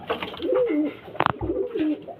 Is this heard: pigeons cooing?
yes